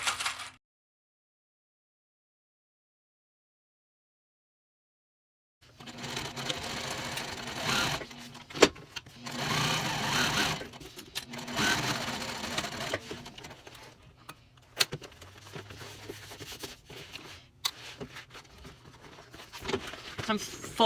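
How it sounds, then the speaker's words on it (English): A sewing machine stitches a backpack seam, running in steady bursts of mechanical whirring with short pauses between passes, close and fairly loud after a silent opening stretch. "we're going to stitch together and then flip the base down and top stitch into place"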